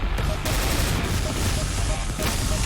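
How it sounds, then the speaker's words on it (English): Shotgun blasts and dense gunfire in the Doom mod God Complex, loud and continuous with heavy booming bursts and no pause. "Oh, we did a shotgun attack."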